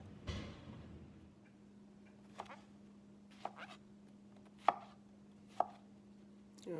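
A knife taps through ingredients for an omelet on a cutting board, a few sparse, crisp chops spaced about a second apart over a low steady hum, close and quiet with no talking.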